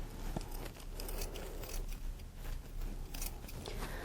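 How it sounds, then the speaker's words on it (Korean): Scissors snip into the seam allowance on the back of a classic wedding garment's fabric, giving quiet, quick irregular cuts close by. "앞쪽과 마찬가지로 뒤쪽에도 가위밥을 줍니다"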